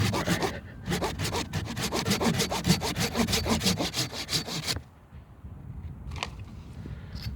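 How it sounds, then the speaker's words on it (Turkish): Close, loud hand saw strokes cut through a peach tree's wood during grafting in a quick steady back-and-forth rhythm, stopping abruptly partway, followed by quiet rustling and a couple of small knocks. "Testereyle yavaşça"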